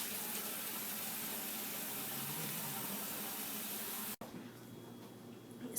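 Hot water from a kitchen tap runs into a pan used for no-bake peanut butter cookies, a steady rushing stream that cuts off abruptly near the end, leaving quiet room tone.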